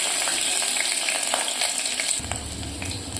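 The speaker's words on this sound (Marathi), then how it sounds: "आता मी तेल गरम करत ठेवलेलं आहे. यामध्ये आपण आता खडे मसाले टाकूयात." Whole spices, green chili and garlic frying in hot oil for chicken pulao: a loud, steady, close sizzle and crackle throughout with scattered pops, a low stirring rumble joining partway through, and no talk.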